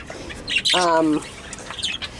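Young budgie chicks from a home breeding setup squawk and chirp up close, with one brief harsh, buzzy call standing out among softer scattered peeps and rustling, while a person talks quietly nearby.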